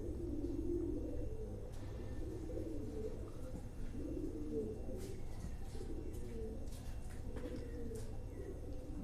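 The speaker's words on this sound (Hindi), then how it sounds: "हमारे टाडी कबूतर हैं, बड़े नायाब कबूतर हैं ये" Low, soft cooing of Teddy pigeons repeats continuously, with faint chirps and small rustles in the background.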